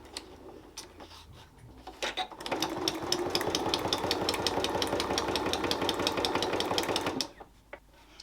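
A sewing machine with a fine Microtex needle stitches curves, opening with a few slow clicks before settling into a rapid, even, buzzing run of about five seconds that then stops sharply, up close with no talking.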